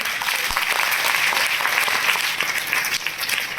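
A large audience at a motivational seminar bursts into loud, sustained applause, a thick continuous roar of clapping that stays strong and even from start to finish.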